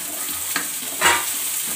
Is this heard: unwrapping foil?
no